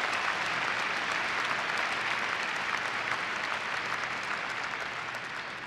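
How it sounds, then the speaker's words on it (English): Sustained applause from a convention audience in a large general session hall, a dense steady clapping that stays loud and even throughout, with no speech over it. "Please give them a round of applause."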